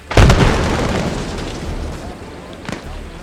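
A vehicle is destroyed in the military shooter game Arma Reforger with a loud, close boom that swells at once and then rumbles off slowly, and a smaller sharp pop follows near the end.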